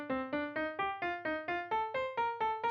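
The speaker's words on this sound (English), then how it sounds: "if you were to take our tenuto melody from before and make all the notes staccato, it would sound like this" A melody played entirely in staccato steps upward in about a dozen short, detached pitched notes, evenly spaced and close, with silence between each note.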